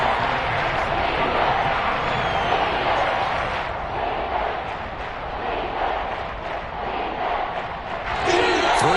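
Stadium crowd roaring in an American football video game ahead of a big third down, a steady loud wash of cheering that swells slightly toward the end, with commentary talk mixed in.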